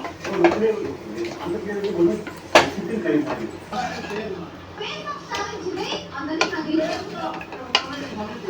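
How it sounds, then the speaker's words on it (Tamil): Vegetable biryani with green peas being stirred in a pot over high flame, a ladle scraping and clanking against the metal repeatedly, with children's voices and chatter in the background. "நல்லா எல்லாமே மிக்ஸ் ஆகிற மாதிரி கிளறி விட்டுக்கோங்க"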